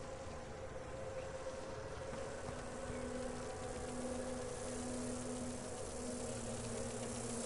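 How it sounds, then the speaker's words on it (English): A swarm of bees buzzing near a fade-touched honeycomb in Dragon Age: Inquisition, a dense continuous drone with a steady hum underneath, holding at an even level the whole time. "Are those bees?"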